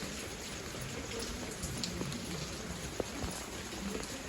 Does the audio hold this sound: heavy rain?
yes